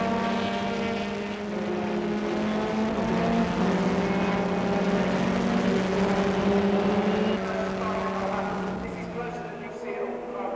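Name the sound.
Formula 3 racing car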